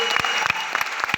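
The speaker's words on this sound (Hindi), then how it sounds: "उनके सम्मान में तालियां बजाइए" Clapping from the audience in Bapu Sabhagar hall, Patna, a brief burst of distinct, closely spaced hand claps at a motivational event.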